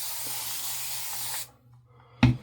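Van Yulay Hades perfume hisses from a spray bottle in one sustained spritz of over a second, followed by a brief quiet and a short knock.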